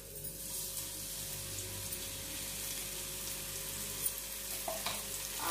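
Potatoes cooking in hot oil in a pan give a soft, continuous frying hiss with faint bubbling, heard close but quiet, with a steady low hum underneath and no talking.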